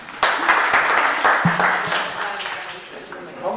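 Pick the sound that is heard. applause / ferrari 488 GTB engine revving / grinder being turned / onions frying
applause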